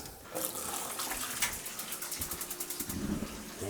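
Water runs steadily through a propane on-demand water heater in a tiny house, turned to maximum, as a close continuous gush with a rhythmic pulsing toward the end and no voices.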